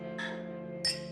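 Two glasses clink in a celebratory toast, giving two short, bright, moderately loud chimes a moment apart over a steady background hum, with no voices over them.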